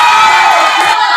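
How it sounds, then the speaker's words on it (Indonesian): A school audience at a student council candidates' vision and mission presentation bursts into loud, close cheering and shouting, a bright crowd roar with whoops that dips briefly before swelling again. "Tepuk tangan dulu untuk jawabannya"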